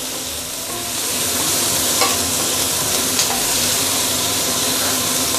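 Prawns and green onion fry in a wok for wet chow mein, a loud continuous sizzle with faint scraping stirs, steady throughout and without talking.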